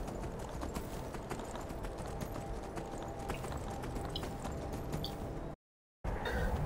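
Steady, rapid clip-clop of a horse's galloping hooves in Skyrim, loud and continuous, cutting out briefly near the end before resuming.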